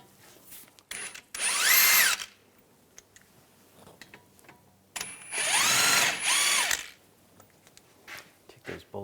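A power tool with a 19mm socket spins out brake caliper bolts on a 2007-2014 Cadillac Escalade, two loud whirring bursts with rising and falling pitch, separated by quiet pauses and light mechanical clicks.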